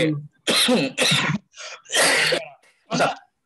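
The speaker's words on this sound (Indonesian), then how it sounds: "Saya batuk nih." Several harsh, loud coughs in separate bursts, close up, with short pauses between them.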